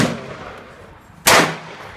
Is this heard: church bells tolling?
no